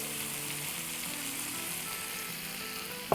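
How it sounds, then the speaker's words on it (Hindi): Hot oil sizzling in a pan on the stove before cauliflower goes in, a steady, soft, hissing fry throughout with a small clunk at the very end. "अब इसमें हम डालेंगे 2 टेबलस्पून तेल"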